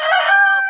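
A tiger chicken rooster lets out one short, loud crow close by, a bright strained call heard alone with no other sound around it.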